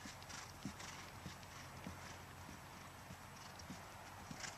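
A ridden horse's hooves clip-clop in a steady, even rhythm during a riding lesson, faint and somewhat distant over a soft background hum.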